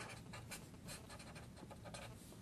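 Handwriting out math produces faint, close scratching strokes in quick irregular bursts over a quiet background, with no speech.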